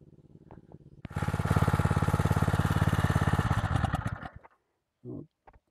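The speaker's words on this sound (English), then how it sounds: "So I'll let that run at idle for a bit just to cool down." A small engine powering a DIY stand-alone fire-hose pump idles loudly and steadily for about three seconds with a fast, even pulsing, then cuts off, leaving a couple of brief knocks afterward.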